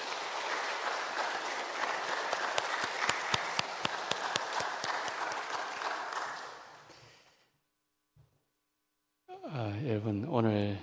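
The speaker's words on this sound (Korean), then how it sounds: "우리 박수 한번 치도록 하겠습니다." A church congregation applauds at a Sunday afternoon praise service in Korea, a dense wash of many hands clapping for several seconds that fades into near silence before a single voice begins speaking.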